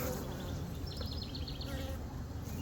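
Honey bees hum in a steady, dense drone while an Apimaye hive is opened for inspection, with a faint higher whine drifting over the continuous buzz.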